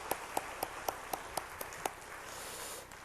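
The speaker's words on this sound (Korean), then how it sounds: "하나님께 감사 영광의 박수 달려드립시다" A church congregation clapping: a handful of crisp, evenly spaced claps in a steady beat that fade out after a couple of seconds. They sound faint and distant over quiet room noise.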